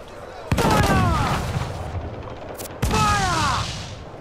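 Ship cannons boom in a naval battle from Assassin's Creed IV Black Flag, two heavy blasts about two seconds apart with rumbling tails, while voices talk over the action.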